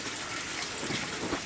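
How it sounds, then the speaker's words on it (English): In an aquaponic setup, a sump pump pushes water up to a tank holding goldfish, giving a steady, close rushing and gushing flow with slight swells and no talking. "The pump down there brings the water up."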